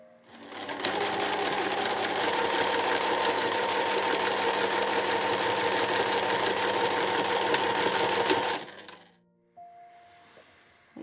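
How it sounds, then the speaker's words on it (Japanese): A sewing machine stitches along the turning-opening edge of a handmade two-tone cotton shoulder bag, running fast and loud for about eight seconds before stopping, followed by a few small clicks and a brief mechanical whir. "ここはね手縫いで仕上げてもいいですけれども、ミシンで仕上げてもどちらでも大丈夫です"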